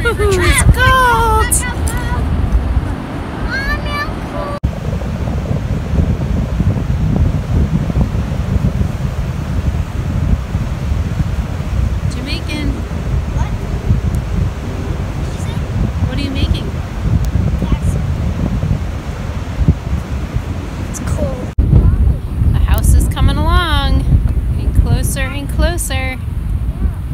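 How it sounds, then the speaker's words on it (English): Strong, cold wind roars steadily across an open beach, blowing sand everywhere and buffeting the microphone with a constant low rush, while people talk and shout over it. "It's pretty windy and the sand's blowing everywhere."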